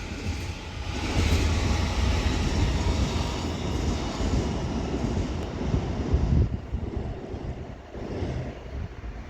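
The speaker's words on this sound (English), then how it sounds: "departing over here is 802001 for Great Western Railway" A Great Western Railway Class 802 five-car unit pulls out of Reading station, a steady low rumble and engine drone with rushing wind-like noise, fairly close and constant before easing slightly toward the end.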